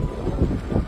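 Strong wind buffets the microphone on the Tsim Sha Tsui waterfront promenade along Hong Kong's Avenue of Stars, with whitecaps on the harbour, making a steady, loud, low roar throughout.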